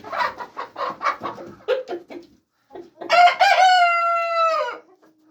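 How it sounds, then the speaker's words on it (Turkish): In a chicken coop, a rooster crows loudly and close, a long drawn-out call, after a series of short clucks from a hen nearby. "Ya bu kümesteyken şunun öttüğünü yakalamayı istiyorum"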